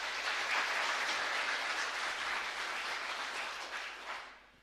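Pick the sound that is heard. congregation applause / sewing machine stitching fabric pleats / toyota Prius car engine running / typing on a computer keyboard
congregation applause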